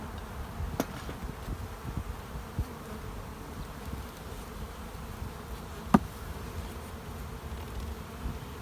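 A honeybee colony in a small nuc hive hums in a steady, close drone, with a couple of sharp knocks against the box and no voices.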